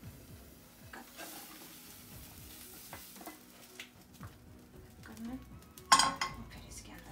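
A cheese omelette with fresh herbs and tomatoes cooks in a pan on low heat, giving a soft, low sizzle under scattered light clinks and scrapes, with a brief louder clatter of pan and plate near the end.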